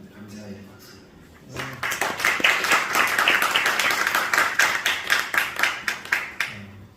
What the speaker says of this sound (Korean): 다시 한번 감사의 박수